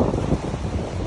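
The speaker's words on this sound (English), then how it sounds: "It's raining, it's storming." A rainstorm with strong wind roars as a dense, steady low rumble of gusts and rainfall, loud and close for about a second with no talk.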